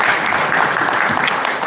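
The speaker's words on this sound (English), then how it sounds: "I'm sure we can give him another round of applause." An audience in a formal assembly chamber gives a short burst of steady clapping that fills the room for under two seconds.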